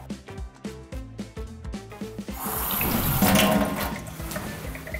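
A household water tap is opened after a few seconds of light clicking and handling noise, then runs in a steady, close hiss and splash into the sink.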